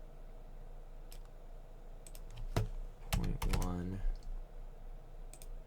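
Soft mouse clicks and keyboard taps come from a computer while a 3D model is being built in Maya. Scattered single clicks lead into a quick burst of keystrokes, all faint and close, with a voice briefly speaking.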